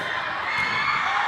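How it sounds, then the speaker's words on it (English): A crowd screams and cheers at a school dodgeball tournament in a gym, with a steady, dense roar of shrill voices throughout. "There's a lot of screaming going on"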